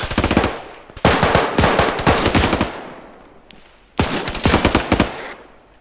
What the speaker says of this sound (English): Watch machine gun fire over the heads.